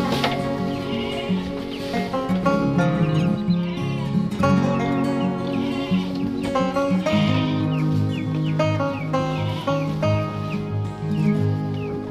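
Goats in a pen bleat repeatedly, several overlapping calls close by and fairly loud, one after another over steady barnyard background with no talk.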